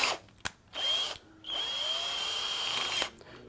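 A power drill runs in short bursts and then a longer steady whirr as its chuck tightens around a screw while removing a banana plug from an amplifier, close and clear with brief pauses between runs.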